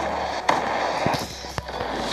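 Explosions in the Roblox game Destruction Simulator make a few sharp bursts and cracks, near and fairly loud, over a steady background of game noise.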